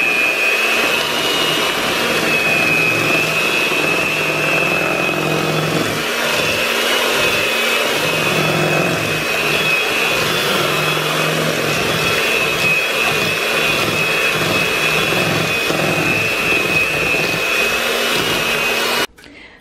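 An electric mixer whirs steadily and loudly for about twenty seconds, beating strawberry cake batter with vanilla extract, then cuts off abruptly at the end.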